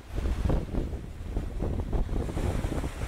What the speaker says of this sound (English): High sea waves are normal as this is an open sea.